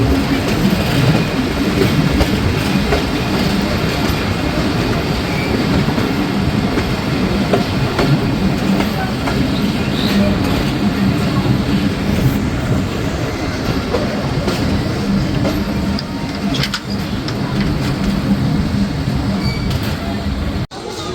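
A local mail train pulls into Kakanhat railway station on the Rajshahi line, with a loud, steady rumble and rhythmic wheel clatter on the rails throughout, close by and continuous, with a voice faintly beneath.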